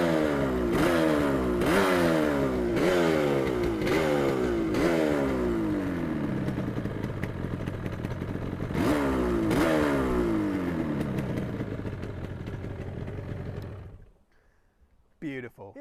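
A Yamaha RD350LC two-stroke motorcycle, started outside a showroom, gives a string of sharp, rising revs and then a second burst before settling and cutting out, loud and close.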